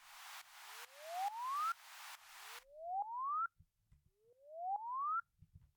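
Three synthesizer notes in FL Studio glide upward in pitch, the first over rhythmic pulses of noise, the other two alone with brief clicks between.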